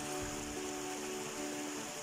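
A river flows past a campsite among mountains and trees near Tagaytay, a continuous broad rushing wash of moving water, steady and fairly close, with no voices heard.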